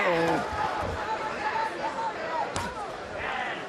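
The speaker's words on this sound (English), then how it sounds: "Hear the buzz in the crowd now, Carlos?" Arena crowd at a professional boxing match in round three, a steady murmuring buzz with scattered calls and shouts, ringside commentators talking over it throughout.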